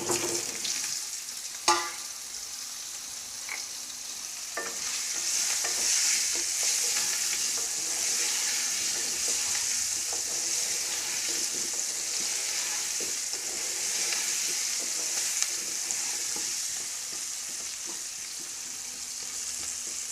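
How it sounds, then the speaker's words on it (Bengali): Potato pieces fry in hot oil with turmeric and salt over a medium gas flame, giving a continuous even sizzle with occasional light clicks of stirring for a dum aloo recipe. "গ্যাসের ফ্লেমটা মিডিয়াম রেখে আলুগুলোকে আমি ব্রাউন কালার করে ফ্রাই করে নেব"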